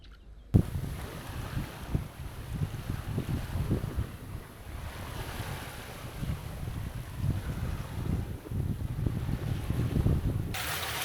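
A sailboat under a code 0 sail in light wind, making about 6 knots: steady wind rush across the microphone and the continuous wash of water along the hull, with soft irregular slaps of waves throughout.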